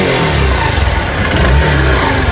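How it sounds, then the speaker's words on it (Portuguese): A small Suzuki motorcycle engine revs in short, uneven pulses close to the microphone, loud and throaty with a rough mid-range growl and no speech. "esse motorzinho é muito bom, silencioso, perfeito"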